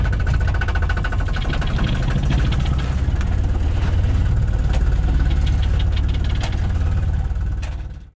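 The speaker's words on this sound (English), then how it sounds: "Bit noisy with the engine." A sailboat's auxiliary engine motors steadily on the North Atlantic, a loud, continuous knocking drone close by with no break before it cuts off at the end.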